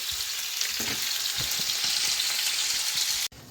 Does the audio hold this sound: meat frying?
yes